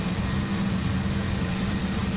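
A steady, droning turboprop engine hum of a King Air 200 in a flight simulator, continuous and even with a low-frequency rumble and no breaks.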